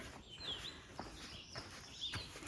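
Several birds chirp and whistle in short, high bright phrases at a bird sanctuary trail on Amherst Point, moderately near and fairly faint over quiet woodland ambience, with a few soft footstep-like thumps between calls.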